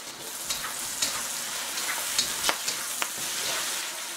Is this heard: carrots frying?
yes